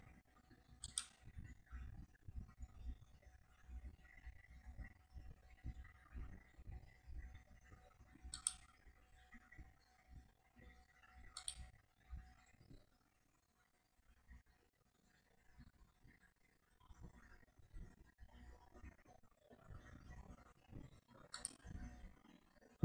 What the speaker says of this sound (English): Just click here to convert.